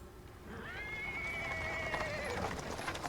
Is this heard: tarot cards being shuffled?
no